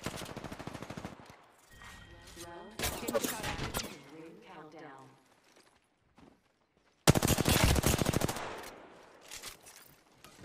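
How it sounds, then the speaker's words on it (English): Automatic gunfire in the Apex Legends video game comes in loud, dense bursts, with a sustained volley at the start, another burst around the middle and a long heavy barrage near the end. "Opening fire."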